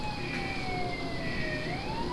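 Police siren in a tabletop role-playing game, played alone as a sound effect: two steady wailing tones that slowly glide down and then rise again under a constant hiss.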